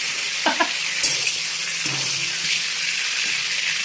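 Whole spices crackle in hot oil left from frying cauliflower. A continuous sizzle runs throughout, broken by a few sharp pops and light clinks near the start, with nobody speaking.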